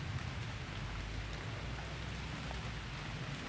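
Steady, dense hiss of rain falling outdoors during eel fishing, a constant wash of drops on surfaces at low volume with no voices.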